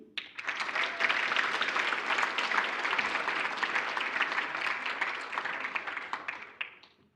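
Sustained crowd applause at a school award ceremony, steady clapping from a seated audience that swells quickly, holds for several seconds, then tapers off, with no talking over it.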